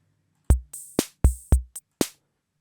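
Electronic drum hits in a sparse pattern: deep kicks alternate with crisp open and closed hi-hats in a choke group, each open hat cut short by a closed one. No talking.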